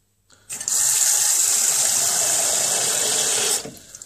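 Tap water pours steadily into a container for about three seconds, a loud continuous rush that starts and stops abruptly.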